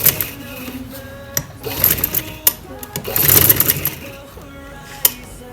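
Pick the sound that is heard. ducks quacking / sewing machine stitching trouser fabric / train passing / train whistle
sewing machine stitching trouser fabric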